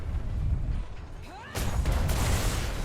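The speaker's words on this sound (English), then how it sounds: "Fire chain shot." Ship cannons firing chain shot in a naval video game, a sudden loud booming volley after a quieter stretch with a brief whistling sweep, followed by a lingering rumble; a voice speaks around it.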